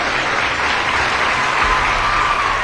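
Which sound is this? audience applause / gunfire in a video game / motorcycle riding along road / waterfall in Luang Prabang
audience applause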